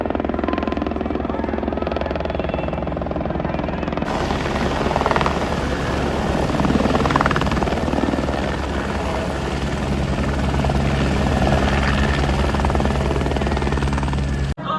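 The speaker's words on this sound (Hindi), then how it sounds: "सुबह का पहला हेलीकॉप्टर आ चुका है" A helicopter's rotor and engine roar steadily and loudly throughout, close by, on the Amarnath cave pilgrimage route near Panjtarni, with constant pulsing thrum and no pause.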